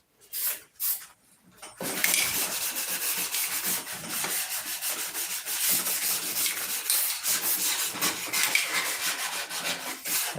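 Steady hand sanding with sandpaper on a surface being sanded out, a continuous rough rubbing that runs for most of the stretch after a couple of brief scrapes at the start, fairly close and even in level.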